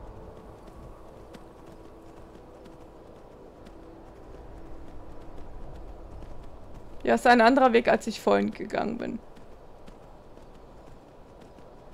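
Horse hooves clopping along a path while riding in the video game Skyrim, a soft steady patter under someone talking, with a brief louder burst of his speech in the middle.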